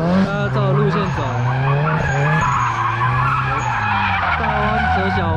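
A car drifting at a drift meet, its engine revving hard under long, continuous tire squeal that rises and falls in pitch as the car slides through the corners, close and loud throughout.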